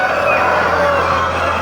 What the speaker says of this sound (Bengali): দেখেন আমাদের মুরগিগুলা